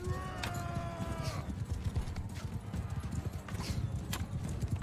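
Horse hooves clip-clop in Mount & Blade 2: Bannerlord battle gameplay, rapid and rhythmic at moderate volume, with scattered clanks, a brief whinny-like tone and other game sounds layered around the hoofbeats.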